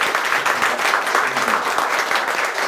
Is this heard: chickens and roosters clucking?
no